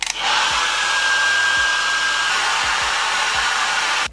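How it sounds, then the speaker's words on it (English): A hair dryer blows steadily and loudly, close by, while hair is blow-dried during a quick layered wig install, with brief soft thumps as the airflow moves through the hair. "So what I'm going to do is blow dry it."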